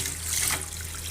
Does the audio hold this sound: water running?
yes